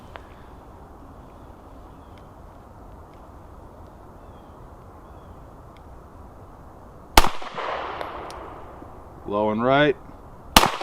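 A Smith & Wesson M&P pistol fires two sharp, loud gunshots several seconds apart outdoors after a quiet stretch. Someone speaks briefly between them.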